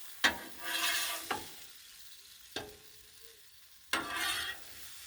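Peach pieces cook on a hot griddle: a soft continuous sizzle broken by a few sharp spatula scrapes and clacks that each trail into brief bursts of hiss.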